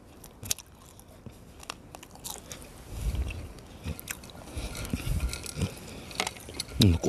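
Close, crisp crunching and biting as freeze-dried weed stems are chewed, with irregular brittle snaps and crackles that grow busier toward the end.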